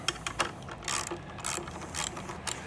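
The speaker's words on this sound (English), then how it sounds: "take your wrenches and you're just gonna wanna remove" Wrench loosening the four bolts on an RV dump waste valve, heard as a series of close metallic ratcheting clicks in short bursts with brief pauses, no talking.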